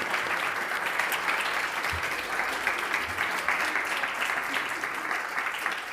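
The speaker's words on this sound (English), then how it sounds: "Join me in a round of applause." Conference audience applauding after a talk on European energy insecurity, steady dense clapping filling the room throughout, fairly loud and sustained without pause.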